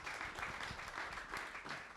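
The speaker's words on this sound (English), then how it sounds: "Let's have a big round of applause for our panel." Brief, faint applause from an audience for a venture capital panel at a tech week event, a soft dense wash of clapping without clear individual claps.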